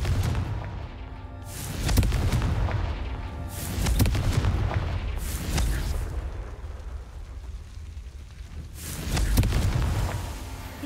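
Repeated fire-spell blasts in Hogwarts Legacy, four loud booming bursts spaced a couple of seconds apart over a rumbling game backdrop, with no talk.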